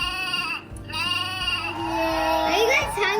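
A toy sheep from a farm animal playset gives a bleating call, with a voice speaking over part of it.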